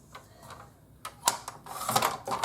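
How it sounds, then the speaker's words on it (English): A paper trimmer slices through cardstock in a craft setting, giving a few sharp close clicks and a brief scraping cut, uneven in rhythm and fairly loud. "I probably need to use my trimmer, otherwise it'll be crooked"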